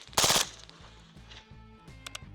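A suppressed MP7 submachine gun fires a quick burst at steel targets, one sharp loud crack followed by faint metallic pings ringing from the steel further off.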